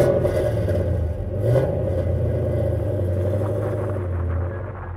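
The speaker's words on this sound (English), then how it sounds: "I drive a 1990 Toyota Cressida with an LS1 in it." A 1990 Toyota Cressida fitted with an LS1 V8 revs hard, its deep rumbling roar loud and close throughout before easing off at the end.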